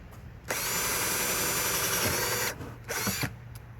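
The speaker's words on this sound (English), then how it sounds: "I take my drill and my hole saw and I go on the other side" A power drill fitted with a hole saw runs steadily for about two seconds, stops, then whirs again in a short burst, cutting into a bucket close up with a grinding edge.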